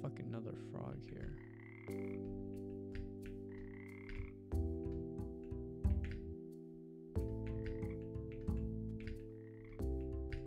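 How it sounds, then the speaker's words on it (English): A frog croaks several times in a dark-fantasy shooter game with frogs and guns, the deep croaks repeating over a steady layer of sustained in-game music tones. "I know there's a fucking other frog here"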